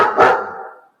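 A single sharp dog bark sounds indoors at close range, its echo trailing off over about a second.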